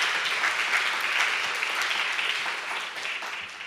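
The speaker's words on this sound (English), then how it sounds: "So a big round of applause to everybody." Audience applause at the close of a forum session, a steady wash of many hands clapping that fades slightly toward the end.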